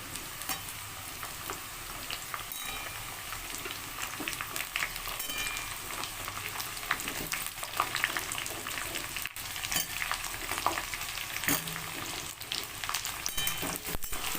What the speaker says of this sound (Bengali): এবার আমি এর মধ্যে দিয়ে দিচ্ছি আলুটাকেও আমি একটু ফ্রাই করে নেব।